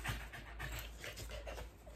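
A working farm dog pants rapidly and steadily at close range, a soft rhythmic huffing that continues throughout with no talking over it.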